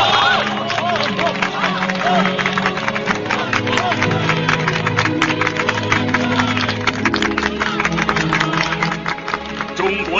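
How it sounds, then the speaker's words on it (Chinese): Large crowd in a wartime scene cheering and clapping together, a dense, loud, continuous roar of voices and applause sustained throughout. "让我们一起为这个觉醒的民族欢呼吧"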